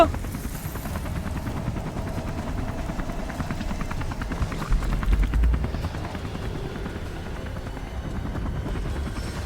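A helicopter in the video game Detroit: Become Human thrums steadily with a dense rotor chop throughout, loud and continuous, with a brief low thump near the middle.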